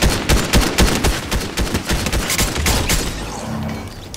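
Gunfire in the video game Fortnite: loud, rapid bursts of shots in quick succession, dense and overlapping, followed by a brief rumbling tail, with no speech.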